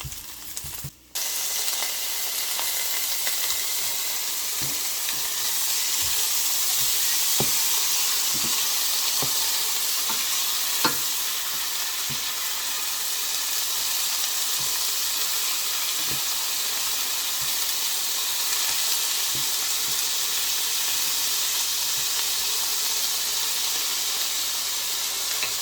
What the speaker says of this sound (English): I put it on 5 and just let it simmer for just a few minutes so that the peppers and onions will be a little tender